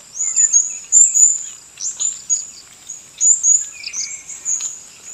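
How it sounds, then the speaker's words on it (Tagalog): Many birds sing and chirp together outdoors, a dense stream of high, bright tweets and trills in overlapping bursts, close and fairly loud, with no voices. "Ang daming ibon dito mga kasuelo."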